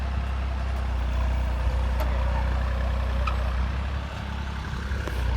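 A tractor runs a farm implement that removes weeds and loosens soil in a field, its engine giving a steady, even, low drone at constant RPM with no change in pitch.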